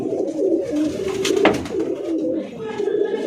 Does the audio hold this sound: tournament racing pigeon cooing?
yes